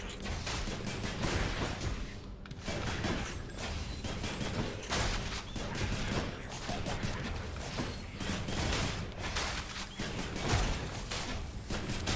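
Rapid weapon fire in the video game Hades during a fight with a bone hydra boss, a dense, continuous burst of shots and impacts over game effects, loud and sustained with no clear pauses.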